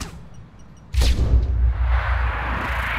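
A single heavy sniper rifle shot booms about a second in, followed by a long rumbling echo and whooshing tail in a noisy Sniper Ghost Warrior 2 game soundscape.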